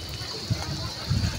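Water runs from a row of twenty-two water spouts, a steady broadband rush and splash heard nearby, with muffled voices mixed in underneath.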